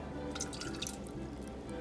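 Water is poured into a stir-fry sauce of Chinese black vinegar and sesame oil, giving a continuous trickling splash with bright drip-like patters, close and steady, with no voices.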